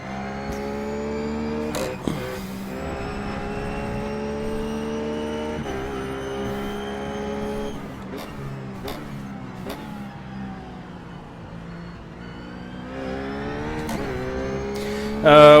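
A RUF GT3 race car engine in the iRacing sim at Oulton Park drones steadily with rising and falling revs through gear changes, loud and continuous, with a few sharp shift blips and no talking.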